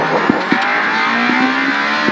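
A rally car launches from a stage start at the 2022 Monaghan Rally, its engine revving hard and close with climbing tones through gear changes and brief bursts of tyre noise.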